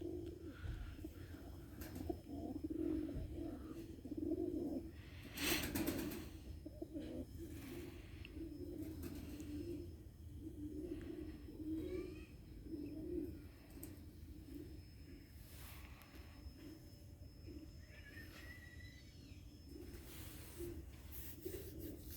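Domestic pigeons cooing at a rooftop coop, repeated low throaty coos from several birds, close but faint, with brief rustles and no talking.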